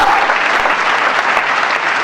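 Congregation applause during a church sermon, loud dense clapping throughout with no pauses.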